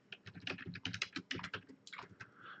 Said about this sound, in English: I'm going to just type in who this email is to,